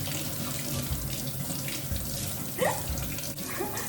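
Eggplants being washed under a running kitchen faucet, a close, steady stream of tap water splashing into the sink without pause, with faint handling noises.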